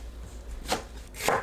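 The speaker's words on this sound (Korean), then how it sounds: "미역줄기를 간추리고 3cm에서 4cm 길이로 썰어주세요." A knife chops blanched seaweed stems into 3-4 cm lengths on a cutting board, two crisp close strokes about half a second apart, with no talking.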